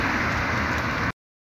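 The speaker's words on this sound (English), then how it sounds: "let's see how we can remove this noisy car over here" A noisy car passing on a road: a loud, broad, steady roar for about a second that cuts off abruptly.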